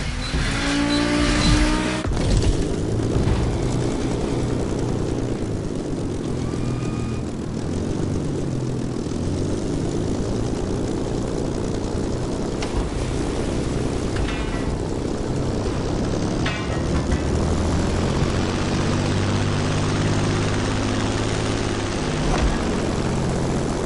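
Propeller airplane flying in the racing game The Crew Motorfest, a loud continuous droning engine roar with shifting tones and some whooshing, steady throughout with no talk.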